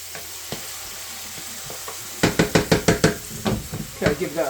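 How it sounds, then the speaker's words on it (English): Garlic and onion frying in oil while being stirred, a constant sizzle that turns into a quick run of loud, rhythmic scraping strokes midway, followed by a few more irregular stirs. "Give that a good stirring. Get the flavours out of the garlic and the onion into the oil."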